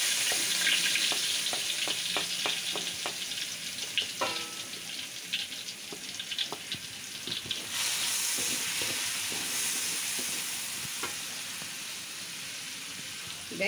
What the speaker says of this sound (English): After frying the crabs, I'll put in the garlic.